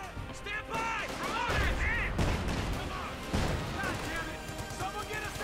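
Artillery shells and gunfire crash through a Company of Heroes 2 battle, with loud bursts and impacts spread across the clip, layered under steady commentary.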